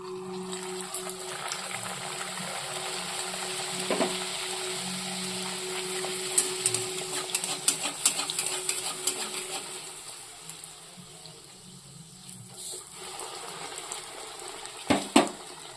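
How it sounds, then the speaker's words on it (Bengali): Pea-stuffed kachori fry in hot oil with a steady, soft hiss of bubbling and faint crackle, continuous and fairly close, with a low hum underneath and no talking. "তেল গরম হচ্ছে, আমি ভেজে নিয়ে তারপরে তোমাদেরকে দেখাচ্ছি"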